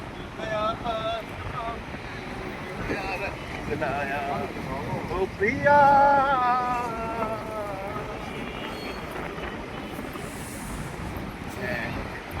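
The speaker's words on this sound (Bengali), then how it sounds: "বেশ হাওয়া দিচ্ছে জানো তো, বেশ ঠান্ডা ঠান্ডা লাগছে হাওয়াটা" Night wind gusts across the microphone at Puri sea beach, a rough, blustery rush with the sea in the background and people talking over it.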